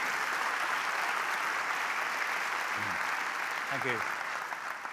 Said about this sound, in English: I kind of force you to clap like that